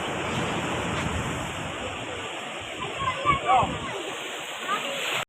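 Sea waves break on the shore at Kanyakumari in a continuous roaring wash of surf, with wind buffeting the microphone, a few louder splashes near the middle, and voices faintly underneath.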